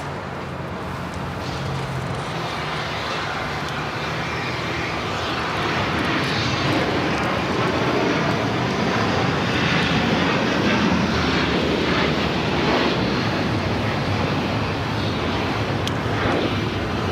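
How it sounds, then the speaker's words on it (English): A Qatar Airways Airbus A350-1000 bound for Doha rolls for takeoff on runway 25R at Los Angeles International Airport, its engines producing a loud, steady jet roar that swells and holds throughout, with some wind rumble and no talking. "Big Q, flight 742, A350 1000, heading back to Doha."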